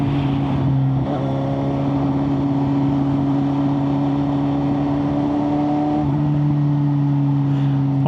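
Steady loud motorbike engine drone with a constant low hum and wind rush while riding on a road in Phuket, Thailand, continuous throughout with a slight pitch shift near the end, with no talking.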